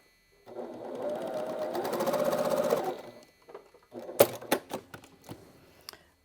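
A sewing machine runs a short burst stitching quilt patches for a small Yellow Cheerios mini quilt, close and loud for about two seconds, followed by a few sharp clicks and taps as it stops.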